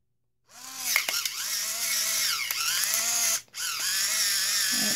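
A Nuvita 2 in 1 electric salt and pepper grinder runs on its pepper side, giving a close whirring motor buzz with gritty grinding that wavers in pitch, briefly cutting out once before starting again.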